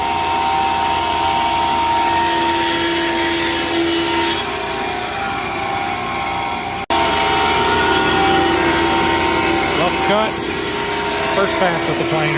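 Wood planer runs loud and continuous, close up with a steady whine, briefly interrupted near the middle, while a voice talks over it.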